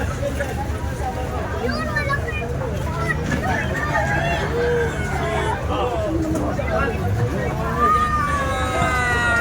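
A red fighting rooster crows over a busy crowd of overlapping voices and street noise in a packed neighborhood, with the wavering call partly buried in the chatter.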